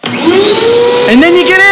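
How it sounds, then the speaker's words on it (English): A blast cabinet's vacuum motor whines up to speed and keeps roaring steadily at close range, with a brief shift in pitch partway through. "all you do is just turn the vacuum on"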